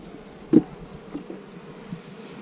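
Honey bees droning around a hive full of honey, a steady low buzz with a few closer passes rising briefly above it, no voices.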